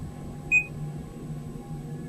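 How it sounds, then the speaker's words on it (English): A single short, clear electronic beep from a volume adjustment cuts through a quiet background hum, brief and near. "I don't know if you heard that beep, but I'm just adjusting volume"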